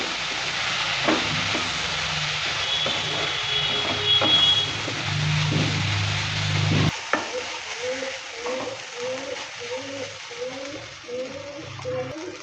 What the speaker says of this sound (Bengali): ভালো করে নেড়ে চেড়ে নিয়ে ভেজে নেব